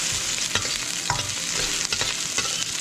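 Garlic fries in a pan with a steady sizzle, broken by a few sharp scraping stirs of a utensil against the pan, close and moderately loud.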